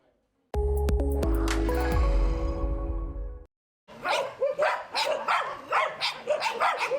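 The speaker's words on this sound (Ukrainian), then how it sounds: "Більше трьох сотень покинутих долею собак проживають тут." Several dogs at an animal shelter bark in quick, overlapping bursts, loud and fairly close, after a stretch of music that gives way to a short silence.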